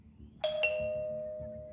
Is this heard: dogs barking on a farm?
no